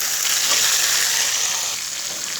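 Bottle gourd pieces frying in a pan with curry leaves and tomato for chutney give a steady, bright, close sizzle that holds evenly throughout with no talking.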